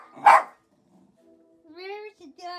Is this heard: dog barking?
yes